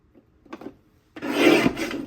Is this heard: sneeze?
no